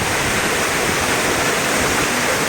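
A waterfall at Uğurlar village in Bartın, Turkey, roars loud and close as a dense, steady rush of falling water with no other sounds.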